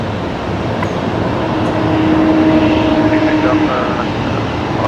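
A steady, droning airplane engine roar at Brisbane Airport fills the scene, broad and rumbling, with a thin tonal whine rising briefly above it.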